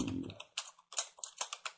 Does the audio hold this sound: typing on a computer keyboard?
yes